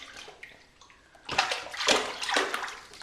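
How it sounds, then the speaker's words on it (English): Children splashing water in a bathtub, a few soft sloshes at first, then three louder splashing bursts close by in quick succession. "Splash, splash. Splash, splash."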